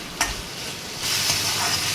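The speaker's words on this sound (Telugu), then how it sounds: "బాగా ఫ్రై చేసుకోవాలి" Tomato, onion and cashew fry loudly in a pan, a steady close sizzle with a brief stirring scrape near the start, growing a little louder halfway through.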